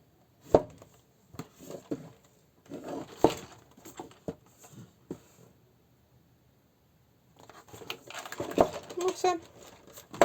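A LEGO Friends rescue seaplane set (41752) box is unpacked, with crisp cardboard tearing, crinkling plastic bags and handling bumps in bursts, close up. Someone speaks briefly between them.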